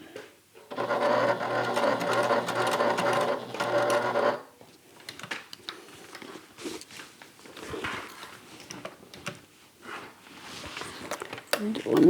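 A sewing machine stitches a bag panel in one close, steady run of rapid needle chatter lasting a few seconds, followed by quieter handling noises, clicks and shuffling as the fabric is adjusted.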